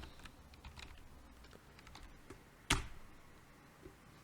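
Keys tapping on a computer keyboard as a name is typed, a quiet, irregular run of soft clicks with one sharper, louder keystroke near the end, heard alone without talk.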